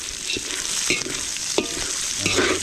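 Wild antipolo nuts fry in coconut oil over a small fire, a loud, close, continuous sizzle broken by several scraping stirs, with no talk.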